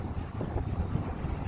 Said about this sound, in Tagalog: Lakas talaga ng hangin, no?